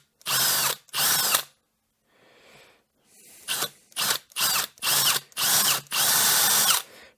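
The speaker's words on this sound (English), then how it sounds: "I'm going to very carefully countersink around that hole just a little bit" A power drill whirs in a series of short bursts while countersinking a hole in copper, two quick runs, a quiet pause, then several more close, loud pulses and a longer final spin.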